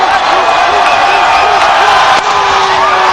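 Crowd at a tense finish of a Canada versus Zimbabwe T20 cricket match, a dense continuous roar of cheering spectators with whoops and shouts, loud and sustained throughout.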